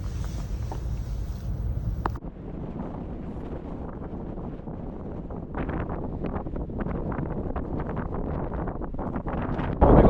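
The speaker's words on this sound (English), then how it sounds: "we're currently covered by all the wind" Strong wind roars across an exposed high-altitude spot in Cotopaxi National Park, a steady loud rumble with gusting buffets striking the microphone throughout.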